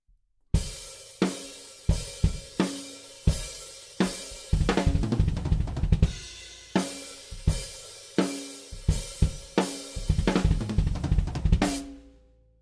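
A drum kit plays a steady groove of sharp hits, then a quick half-bar fill of rapid strikes before the beat resumes, ending on a crash that rings out.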